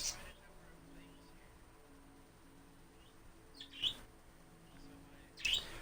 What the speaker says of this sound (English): I want to excuse my birds that are making a lot of noise in the background.